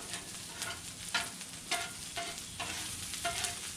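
Chopped jalapeno sautés briefly in a pan for a Mexican pizza, a close, steady sizzle broken by several quick, rhythmic scraping strokes of a stirring utensil.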